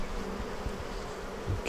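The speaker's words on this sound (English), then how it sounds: "there's still a few bees on the rim here that we can just flick away" Honey bees buzz around an open beehive during a brood inspection, a soft, continuous hum of many insects close by with no talking.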